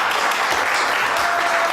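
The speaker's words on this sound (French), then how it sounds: "On les applaudit très très fort." A French TV studio audience applauds a band: a brief, dense, loud burst of clapping from many people, continuous and even throughout.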